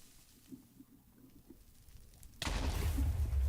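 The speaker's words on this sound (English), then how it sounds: "you get chain reaction explosions now" Nether ore explodes in a chain reaction while mining in the Minecraft modpack FTB Blood and Bones: quiet, faintly pattering ambience gives way to a sudden loud, rumbling blast that keeps roaring to the end.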